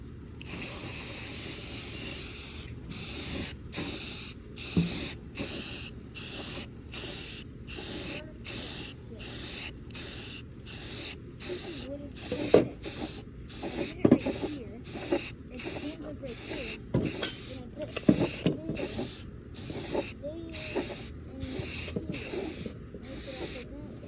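Primer paint sprays from an aerosol can onto a Corvair car part in many short, close hissing bursts with brief pauses between them, and a few faint knocks and handling sounds in the gaps.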